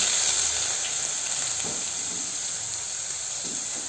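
Finely chopped onion sautés in whole garam masala spices in a pot, making a constant, close frying hiss with a couple of soft stirring scrapes and no voices.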